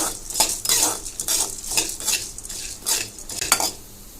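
Chana dal, urad dal and coriander seeds are stirred in hot oil in a pan, with rhythmic metal spoon scrapes and clinks repeating roughly every half second over a light sizzle.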